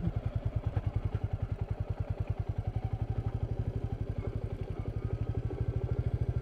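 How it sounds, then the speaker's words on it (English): Royal Enfield Meteor 350 motorcycle riding a rough off-road dirt track, its single-cylinder engine chugging in a fast, steady, evenly pulsing thump, close and continuous throughout. "I bet that guy doesn't get many Royal Enfield Meteor 350s chugging by his homestead."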